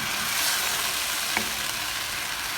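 Chicken chowmein sauce with garlic and ketchup sizzles in a pan on high heat, a steady, close hiss of frying with no voices.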